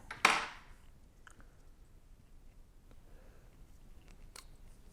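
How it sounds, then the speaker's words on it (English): A single sharp snip of scissors cutting thread while tying a fly, near the start, then near silence with a couple of faint clicks. "Take your scissors, cut the rest of it off."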